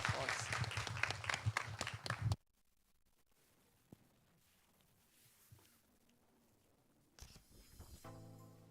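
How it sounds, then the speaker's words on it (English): Loud applause from an audience fills the opening seconds, then cuts off to a quiet room with faint shuffling and a voice starting at the end. "And a round of applause."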